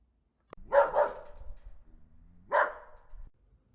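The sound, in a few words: dog barking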